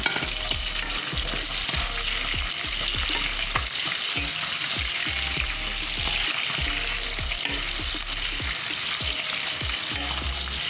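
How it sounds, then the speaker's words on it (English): Onions and salmon frying in palm oil for Ghanaian egusi (melon seed) stew, a steady close sizzle with repeated scraping stirs of a spoon against the pot, no voices. "And then I'm going to be adding in some of my salmon so that the palm oil flavor can go into"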